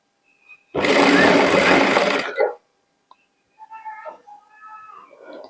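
Sewing machine stitching a blouse along a marked line, a loud rapid whir running for about two seconds then stopping, followed by a click, faint rustles and quiet murmuring voices.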